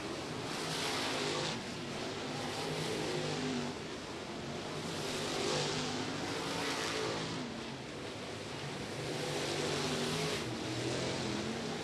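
American All-Star Series late models lap the dirt track at Lake Cumberland Speedway, engines swelling and fading in repeated waves as cars pass through the turns, a continuous mid-distance roar with no voices.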